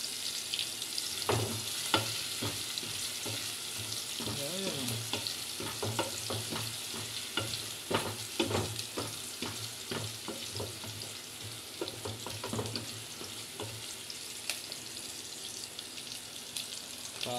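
Steady sizzling of garlic and onion sautéing in a hot pan, with frequent clinks and scrapes of a utensil stirring throughout.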